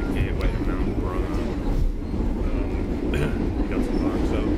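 Inside a moving passenger train in Java heading toward the Mount Bromo area, a loud, steady low rumble of wheels and carriage noise fills the space, with faint higher squeaks over the constant drone.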